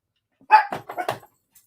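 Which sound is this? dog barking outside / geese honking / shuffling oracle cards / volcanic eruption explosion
dog barking outside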